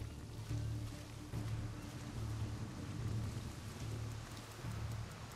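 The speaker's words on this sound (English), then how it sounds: "It looks like it might even rain." Rain and rolling thunder from the Far Cry 6 video game form a steady rain hiss. Low, repeated rumbles swell and fade every second or so, all at a fairly quiet level with no talking.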